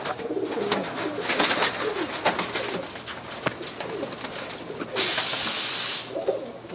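Pakistani pigeons, a Banke crossed with Teddy pair from one family, coo in soft repeated bursts close by, with flutters and clicks between calls and a sharp hissing noise about a second long near the end.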